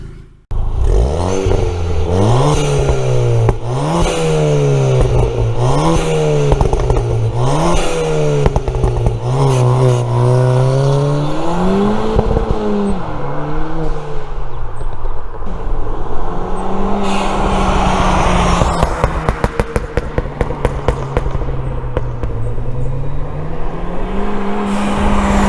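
A car with a Milltek aftermarket exhaust rumbles and revs repeatedly, pitch rising and falling through gear changes, loud and close, with a raspy, crackling exhaust as it accelerates past.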